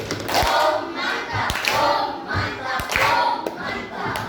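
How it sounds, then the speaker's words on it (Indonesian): An elementary class does the "tepuk bom mantap" patterned clap three times: groups of sharp, near hand claps come in repeated rhythmic bursts, with children's voices chanting between and over them. "Tepuk bom mantap 3 kali."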